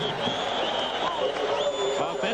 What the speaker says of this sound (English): Crowd has lost none of its enthusiasm